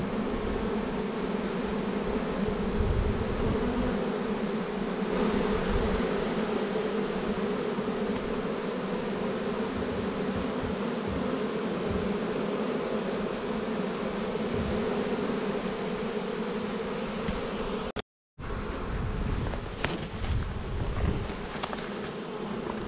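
A honeybee swarm drones around a hive in a steady, dense buzz that fills the air without pause, broken by a brief dropout near the end before the humming resumes.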